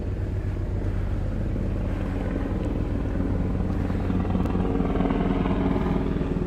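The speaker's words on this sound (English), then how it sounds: "Helicopter!" A helicopter flies overhead above an evening street in Asakusa, Tokyo, its rotor chopping loud and steady throughout.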